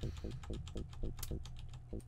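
Quick keystrokes clatter on a mechanical keyboard in a fast, even rhythm of crisp clicks, close and fairly quiet, with faint speech underneath.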